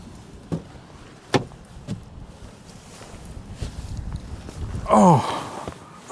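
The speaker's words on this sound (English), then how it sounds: "I seem to spend all my time getting in and out of the car" A car door shutting with a solid thump as someone gets back into a car in the Scottish countryside, preceded by a few scattered knocks and rustles and followed by a brief mechanical whir.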